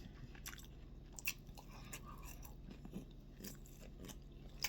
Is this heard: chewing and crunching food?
yes